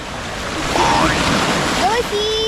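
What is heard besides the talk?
waves crashing against rocks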